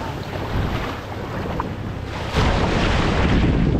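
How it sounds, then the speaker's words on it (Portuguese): Wind and surf at a beach in Arraial do Cabo, Rio de Janeiro, a steady broadband wash of waves with buffeting wind on the microphone, swelling louder for the second half. "Olha só a praia."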